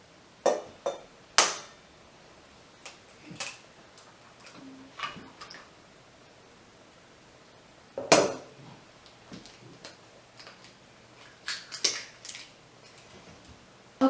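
Eggs cracked one-handed into a mixing bowl for a lemon blueberry loaf, sharp clicks and taps of shell on the bowl rim at irregular intervals, close and clear with quiet pauses between.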